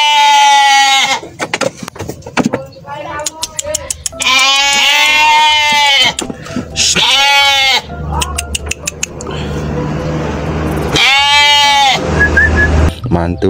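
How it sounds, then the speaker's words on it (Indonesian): Sheep bleat repeatedly, loud and close, in a run of wavering cries with short gaps between them. "Kakak menemukan domba teman-teman."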